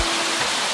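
A waterfall at Cachoeira da Grazi do Índio in Ituporanga roars as a dense, continuous wash of loud, close white noise, heard alone for under a second.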